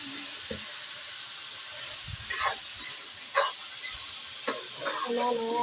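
Onion, tomato and turmeric frying in a pan, giving a steady sizzle and hiss broken by several close scraping stirs of a spoon.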